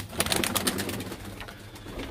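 Turkish play pigeons coo nearby in soft, repeated throaty calls that overlap in an uneven rhythm, with no talking over them.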